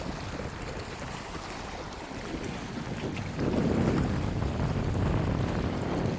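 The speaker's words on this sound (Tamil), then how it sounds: "இதில் பாருங்க அலை வந்து எப்படி அடிக்குதுன்னு பாருங்க." Sea waves surging and breaking against tall rocks on a shoreline, a steady broad wash with wind buffeting the microphone, swelling louder midway as a bigger wave hits, with no talk.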